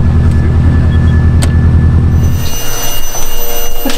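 A tuned 300WHP Subaru STI engine running close by, a loud, steady low idle rumble for about two and a half seconds, then a shift to a rougher, pulsing drone with a faint high whine.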